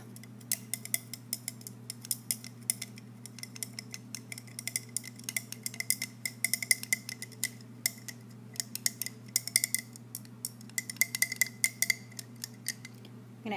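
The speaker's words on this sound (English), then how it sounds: "And then stir it up." Stirring a solution in a glass test tube during a chemistry lab, with quick irregular clinks and taps of a stirrer against the glass repeating for over ten seconds over a low steady hum.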